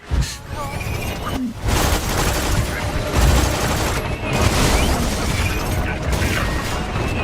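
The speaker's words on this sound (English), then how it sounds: "They're suicide bombing themselves right next to the beacon to destroy it." Enemies detonating themselves in suicide blasts beside a beacon in Borderlands 2, heard as a dense barrage of explosive booms and gunfire-like crackle with clanking machinery, continuous and loud for several seconds.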